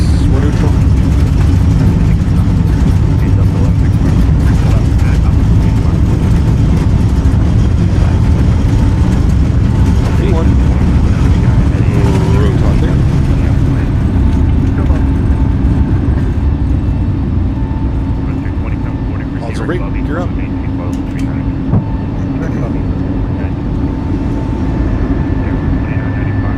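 Airliner engines spooling at takeoff power during a crosswind takeoff roll in Microsoft Flight Simulator, a loud steady low roar that fills the clip and eases slightly midway, with a pilot talking over it.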